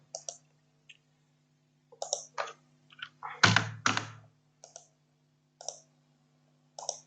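Sparse, crisp clicks of a computer keyboard and mouse while cutting and pasting a reference, coming singly and in short clusters, with one louder thunk in the middle, close up against a quiet hum.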